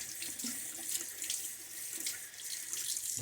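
Safety razor, a Gillette SS 40s style with a Personna blade, rinsed under a running bathroom tap, a steady close splashing water stream with small bursts as the razor passes through it.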